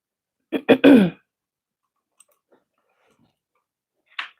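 A person clears their throat in a couple of quick, rough bursts near the start, followed by near silence and a faint click at the end.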